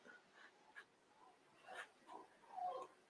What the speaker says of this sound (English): you hear the puppies?